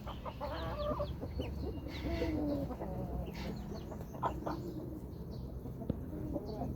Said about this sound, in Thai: นี่แม่ แม่สายเลือดสมิสวรรณแม่ไก่มาจากจังหวัดเชียงใหม่